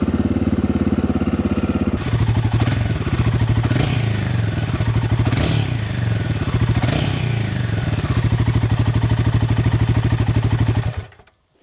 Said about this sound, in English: So let's just listen to the stock exhaust first.